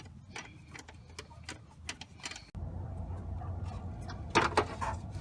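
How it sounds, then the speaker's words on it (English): A small thumb ratchet tightens a bolt on a 2006 Nissan Sentra during an A/C belt change, making a run of quick, faint clicks followed by a louder clatter of metal near the end. "I had to get in here with one of these little thingamajigs, little thumb ratchet."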